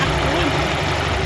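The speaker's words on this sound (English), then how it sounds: "it's idling decent" A Nissan 240SX with a KA24E engine idling after misfire troubleshooting, a steady, fairly loud, even rumble with no change in pace across a short stretch.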